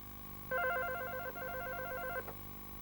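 A telephone rings once in a quiet room, a single clear electronic warbling burst lasting under two seconds with a short break midway, no voices.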